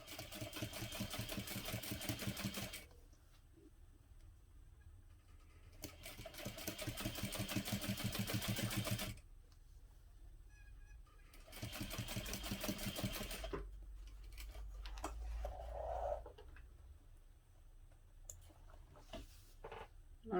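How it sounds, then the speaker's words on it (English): A sewing machine top stitches along a tote bag seam in steady whirring bursts of a few seconds each, separated by quiet pauses, with a soft clunk or two between runs. "I'm just top stitching all along that seam"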